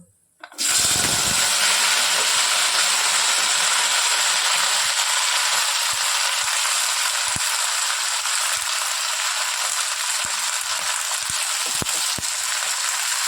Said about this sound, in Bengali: পাঁচ ফোড়নটা একটু ভাজা হয়ে গেলে আমি এর মধ্যে এই কেটে রাখা সবজিগুলোকে ঢেলে দেব।